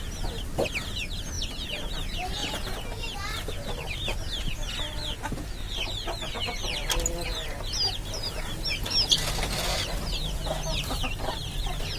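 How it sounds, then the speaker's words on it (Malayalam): Chicks hatched from home-incubated eggs mixed with Fayoumi and native chickens, giving dense continuous cheeping and clucking from many birds close by, with occasional louder calls standing out. "അതുപോലെ നമ്മളെ മുട്ട വെച്ച് അടവെച്ചൊക്കെ വിരിച്ച കോഴിക്കുഞ്ഞുങ്ങളാണിത്"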